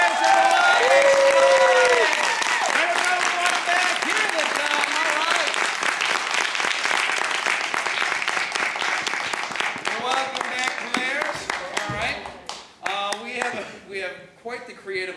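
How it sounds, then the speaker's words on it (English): An audience at an improv class graduation show claps and cheers loudly for several seconds. The applause thins toward the end as voices and laughter rise through it. "Clap your hands, everyone!"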